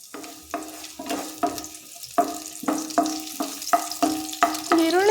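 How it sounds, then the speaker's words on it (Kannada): Onion frying in hot oil with a little mustard seed in a pan for brinjal curry, with steady close sizzling and a quick regular series of spatula strokes clattering against the pan. "ಪ್ಯಾನ್ ತಗೊಂಡು ಸ್ವಲ್ಪ ಎಣ್ಣೆ ಸ್ವಲ್ಪ ಬಿಸಿ ಆದಮೇಲೆ ಒಂದು ಈರುಳ್ಳಿ ಹಾಕ್ಕೊಳ್ಳಿ."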